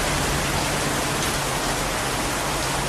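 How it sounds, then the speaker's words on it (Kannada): A loud, unbroken roar of heavy rain close by, a thick constant hiss with no other sounds. "ಸಖತ್ತಾಗಿ ಬೀಳ್ತಾ ಇದೆ ಮಳೆ."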